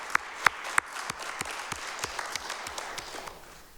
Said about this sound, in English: yeah, let's get a round of applause for that.